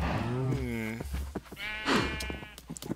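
Cows moo in a farming video game, several drawn-out bleating calls overlapping one another at close range with no talk.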